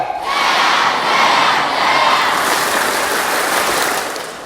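Indonesian junior high school students clap together in a rhythmic chant, and loud dense crowd noise fills the whole stretch with no voices standing apart.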